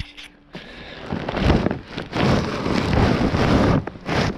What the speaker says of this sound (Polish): zawsze jak zacina deszcz, to albo stamtąd, albo stamtąd